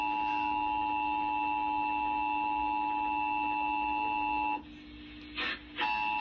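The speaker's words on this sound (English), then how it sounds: "Attention tones." Emergency Alert System attention tones on a Spectrum cable TV alert in Kentucky, a steady dual sine tone held for over four seconds, then cut off, followed by brief bursts of noise.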